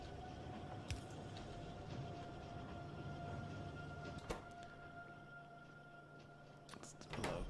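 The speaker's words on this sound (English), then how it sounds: "It's the locomotive." A locomotive runs on rails in the Factorio video game: a steady rolling rumble with faint tonal hum, a few sharp clicks and knocks scattered through, and a brief voice in the background.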